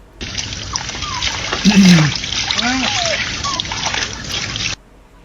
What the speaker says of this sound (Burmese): ခွေးကလေးရေချိုးပေးတာပါ